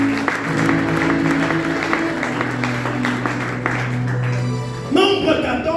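A church congregation claps and applauds to acclaim the Lord, a steady wash of hands sustained for several seconds with voices and sustained musical tones mixed in, full and close throughout.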